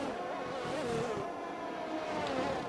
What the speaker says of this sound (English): Lovely sound of all the cars that are going past.